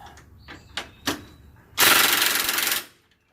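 A few light metallic clicks come first, then a ratchet or power tool runs for about a second in one loud burst while bolts on a Polaris 850 front wheel are tightened, close by.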